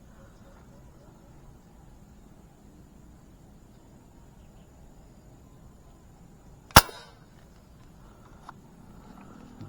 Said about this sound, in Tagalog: unang putok natin